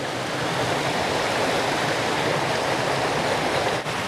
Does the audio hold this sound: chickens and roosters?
no